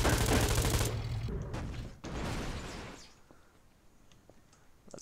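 Tank turret cannon fire in the Garry's Mod video game, heard as a loud blast that holds for about a second, then a second sharp boom trailing into a rumbling decay with faint clicks afterward.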